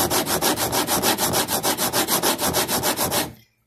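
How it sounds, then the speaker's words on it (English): A two-way file works across hard, smooth guitar fret ends, rasping in a fast, even rhythm of about twenty back-and-forth strokes, loud and close with no voices, then stopping abruptly. "This is a two-way file."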